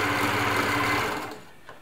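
An Elna Air Electronic TSP sewing machine runs steadily while sewing stitch 3, a blanket-style stitch, giving a close, even motor whir and needle clatter that stops near the end of the clip.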